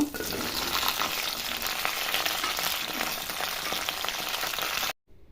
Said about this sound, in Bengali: এবার আমি এর মধ্যে ছিমগুলো দিয়ে দিব